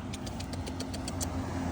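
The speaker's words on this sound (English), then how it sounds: "Oh, we got a car coming." A car approaches and passes on a street during a puppy training walk, a steady low engine and tyre rumble that stays moderately loud throughout, with faint high jingling ticks on top.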